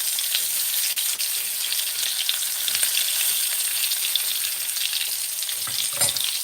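Keto meatballs fry in a hot pan with a steady, dense sizzle throughout, close and continuous, with a few faint scraping touches as they are turned.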